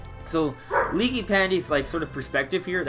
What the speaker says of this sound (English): That's my dog. Sorry, guys.